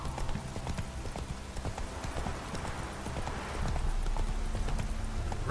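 Roach, the horse in the video game The Witcher 3, gallops with rapid, rhythmic clip-clop hoofbeats that run steadily throughout, with a faint swell of ambient noise toward the end.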